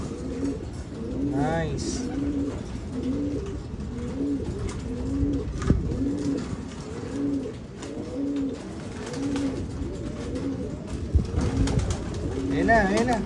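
Pigeons coo in a steady, repeated rhythm close by while a pigeon chick hatches, with a brief spoken word over the calls.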